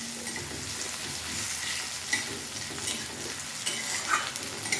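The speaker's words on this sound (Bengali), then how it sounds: "আর একটু হালকা ব্রাউন করে আমি ভেজে নিচ্ছি।" Finely chopped onions fry in a pan until light brown, giving a steady soft sizzle with occasional scraping stirs, close and unaccompanied by talk.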